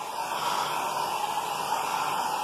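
A hand-held air dryer blows over acrylic paint on watercolour paper, giving off a steady, loud whooshing hiss with a faint motor whine. It runs unbroken throughout, with no voices.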